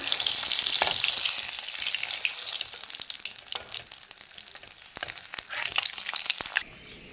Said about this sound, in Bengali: এবার আমি কড়াতে তেলের উপর দিয়ে দিচ্ছি, ভালো করে ভেজে নেব